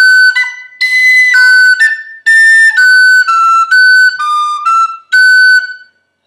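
Tin whistle plays phrase 3 of "The Connachtman's Rambles", a loud, close run of bright high notes broken by brief pauses and ornaments, with no talking.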